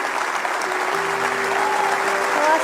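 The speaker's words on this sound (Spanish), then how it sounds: "Vamos, Lakewood, démosle un fuerte aplauso." Lakewood church congregation giving a loud, sustained round of applause, dense clapping from many hands with a faint voice underneath.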